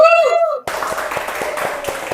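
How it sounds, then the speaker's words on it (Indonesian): After a voice speaks, a small group at an Indonesian talk show on the global economy breaks into hand clapping, a steady run of crisp claps close by. "Tepuk tangan dulu"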